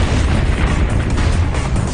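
Apache helicopter missiles, rockets and cannon fire strike Iraqi vehicles on the Basra Road, a dense, loud rumble of blasts and booms with no clear gaps between them.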